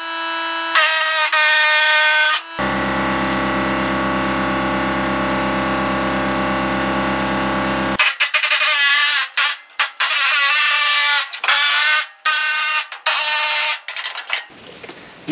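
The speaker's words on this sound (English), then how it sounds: "air hammer" Harsh, loud pneumatic air hammer cutting a rear wheelhouse from a Firebird car body, a buzzing rattle that runs steadily for several seconds, then breaks into short choppy bursts with brief pauses between them.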